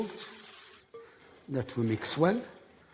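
Cooked onions and herbs are stirred in a pan, with soft scraping and a few clinks of a utensil against the metal, followed by a brief spoken voice nearby.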